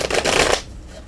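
Tarot cards being shuffled by hand, a quick riffling flutter lasting about half a second, close and fairly loud, then dropping to quiet.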